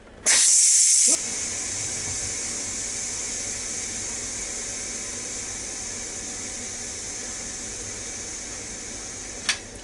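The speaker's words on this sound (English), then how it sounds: "about 2 minutes for it to drop after I released the pressure up here" Pressure valve on a Ninja Foodi pressure cooker venting steam after cooking beef brisket and potatoes, a sharp loud burst of hiss, then a steady strong rushing hiss that continues to the end.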